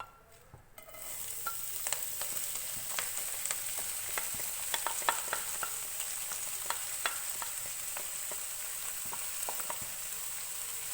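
Fenugreek leaves fry in warm oil for a methi aloo dish, starting with a burst as they hit the pan and then settling into a continuous sizzle dotted with sharp crackles and stirring clicks, fairly quiet and without talk.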